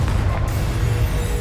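In Hogwarts Legacy, a Confringo spell blast lands as a heavy, booming crash with a sustained low rumble lasting over a second, loud and close.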